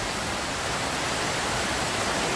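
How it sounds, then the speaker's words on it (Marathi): Konkan village seashore ambience, a constant broadband wash of surf and breeze, close and even throughout the short stretch, with no voices. "समुद्र किनारा बघा."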